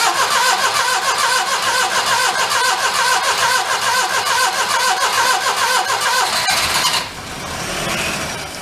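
A worn Daihatsu mini truck with a blown engine cranking on the key: a loud, steady, rhythmic churn lasting about seven seconds, then it stops abruptly and quieter background noise follows.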